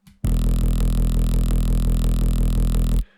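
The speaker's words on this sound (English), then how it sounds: "I used this ESW analog brute saw wavetable and pitched it down by 24" A deep, buzzy sawtooth synth bass in Vital, an analog brute saw wavetable pitched down 24 semitones, holds one sustained low note for about three seconds, steady and loud, with a faint pulsing LFO wobble.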